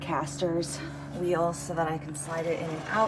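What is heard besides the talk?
No everyday noise stands out behind the speech.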